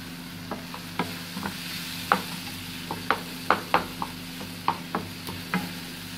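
Bell peppers frying and being stirred in a pan for an Egyptian breakfast, with a steady low sizzle broken by sharp, irregular clicks and scrapes of a utensil against the pan, close and moderately loud, with no talking.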